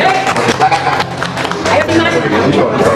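A crowd at a school alumni iftar gathering claps and applauds continuously for a few seconds, dense and fairly loud, with some voices mixed in.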